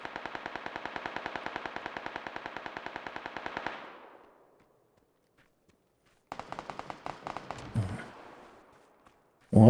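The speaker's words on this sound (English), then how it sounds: "Someone's shooting at you." Rapid automatic gunfire from PUBG on Xbox One rattles in a long, dense burst that fades out, then after a pause another burst of fire breaks in, loud and close.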